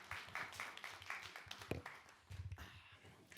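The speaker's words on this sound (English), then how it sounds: "Can I get a round of applause for our awesome panelists?" Scattered audience clapping for panelists at a journalism association panel, uneven and sparse with individual hand claps standing out, a few louder bursts near the end.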